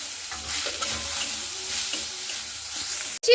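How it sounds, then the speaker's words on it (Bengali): Fried potato and pointed gourd with tomato sizzle in a pan as a spoon stirs them in short, scraping strokes, close and fairly quiet. "একই সঙ্গে কিন্তু দুইবার খুব ভালো মতো করে নাড়াচাড়া করে নিচ্ছি"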